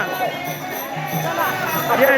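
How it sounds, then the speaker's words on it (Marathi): A crowd at a Sant Shiromani Sena Maharaj pilgrimage procession on foot in Wangdari, a continuous dense murmur of many voices with someone talking loudly close by. "गर्दीच गर्दी सगळी गर्दीच गर्दी"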